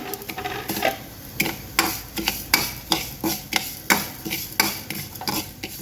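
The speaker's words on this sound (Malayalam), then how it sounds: "ഉലുവെല്ലാം പൊട്ടിയിട്ടുണ്ട്." Fenugreek seeds and dried chillies in a hot pan, crackling with sharp, irregular pops and taps in a steady rapid series, close and fairly loud with no voices.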